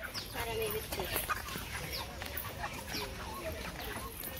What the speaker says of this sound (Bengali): আরে এই যে পোল্ট্রি মুরগি